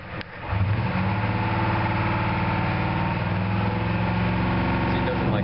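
A diesel engine with a DB2 injection pump idling steadily after starting up, a continuous loud mechanical drone close by, with a voice over it.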